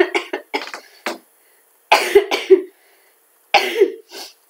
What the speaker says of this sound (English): I need to stop laughing, it's making me cough more.